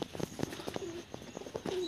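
High flyer pigeons coo softly in a repeated, pulsing rhythm at close range, mixed with faint chirps and light background noise while the birds peck at spilled grain.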